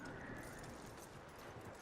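Horse hooves clip-clop steadily in Red Dead Redemption 2, blended into a dense, continuous wash of game ambience with no clear gaps.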